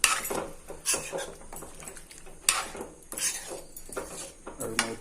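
Chicken curry, Assamese style with local chicken and added water, stirred in a pot: repeated metallic scraping and clinks of a spoon against the pot in an uneven rhythm, close and moderately loud.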